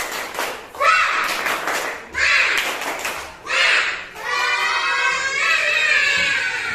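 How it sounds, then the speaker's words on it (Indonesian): A group, apparently schoolchildren in a classroom, does a rhythmic spirit clap: several short bursts of clapping and voices separated by pauses, ending in a longer stretch of clapping mixed with shouting. "terlebih dahulu kita tepuk semangat dulu ya"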